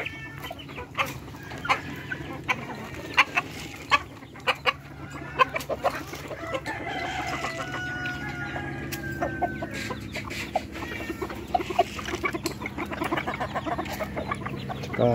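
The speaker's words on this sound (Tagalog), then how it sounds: "Mahal ko na itong manok ko mga idol." Several chickens cluck and squawk close by in scattered bursts, with softer clucking and chirping going on steadily underneath.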